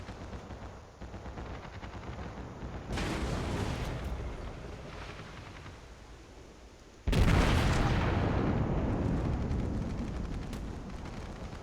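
Battleship guns fire in the World of Warships game, aboard the North Carolina: two heavy broadband bursts of gunfire, the second louder, each trailing into a long rumbling roar with no talking.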